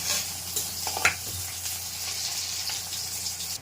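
Chopped onion hitting hot oil along with garlic and ginger, a steady close sizzle and crackle filling the clip, with a couple of faint utensil knocks early on.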